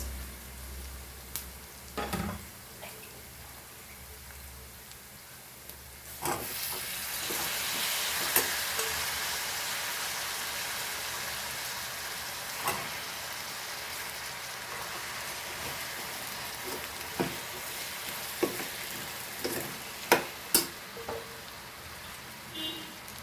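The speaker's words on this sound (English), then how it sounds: "Now we'll add our potatoes." Potatoes fry in a pan for a Goan dry potato bhaji, a steady soft sizzle with scraping stirs and spoon taps scattered through it.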